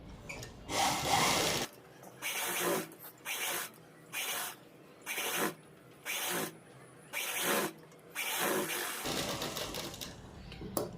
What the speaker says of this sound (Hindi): यहाँ पर किनारी पर सिलाई लगाएंगे जिसे हम टॉप स्टिच भी बोलते हैं।